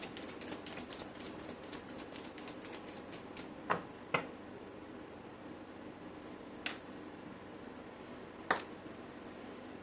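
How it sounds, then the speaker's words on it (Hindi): Tarot cards being shuffled by hand, a soft papery riffling at the start, then a few sharp separate taps and snaps, close and quiet with no talk. "this is my last shuffle"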